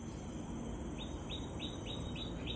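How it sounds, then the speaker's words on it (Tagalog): Birds chirp among trees in Singapore, about six short, bright calls repeating evenly over a steady, noisy outdoor background. "Ayan, yung ibon na makulit dito."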